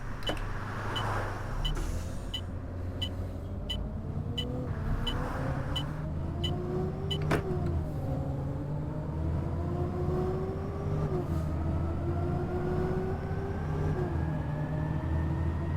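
A Citybus 400R EcoLife bus in the OMSI 2 simulator drives along, its engine droning steadily and rising in pitch through gear changes, with a rhythmic ticking indicator early on.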